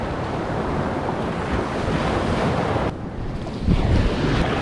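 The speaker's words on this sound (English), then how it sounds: "We're gonna get out there and catch some waves" Ocean surf washes in steadily as waves roll and break close by, with heavy wind buffeting across the microphone and a slightly louder surge near the end.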